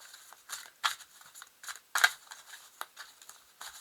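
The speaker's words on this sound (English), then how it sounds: "I'm just going to give the cards a really good shuffle." Playing cards are shuffled in quick, crisp bursts of riffling and snapping, irregular flicks spread across a few seconds, close and fairly quiet with no talking.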